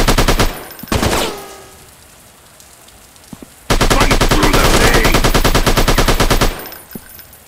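Rapid automatic machine gun fire in an Android army mission shooter game, a short burst early on, then a long sustained loud volley of dense rattling shots that fades at the end, with no talking.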